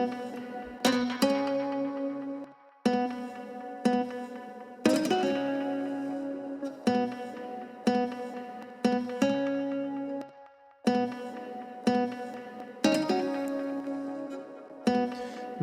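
A guitar part carrying a song's main melody plays alone with effects and echo, a series of plucked, ringing notes and short phrases separated by brief pauses, moderately loud and clear.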